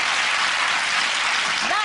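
Enthusiastic applause from a studio audience fills the room, a broad continuous clatter of many hands that carries on for the whole moment, with a faint hint of a voice near the very end.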